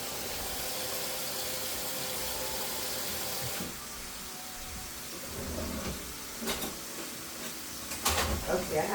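Tap water running while ginger is washed at a kitchen sink, a steady hiss of flowing water with handling clatter and a few sharp knocks near the end.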